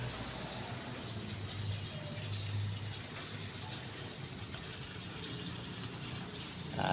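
Steady rushing water sprays continuously from a shower hose onto plants, a broad hiss lasting the whole stretch with no voices over it.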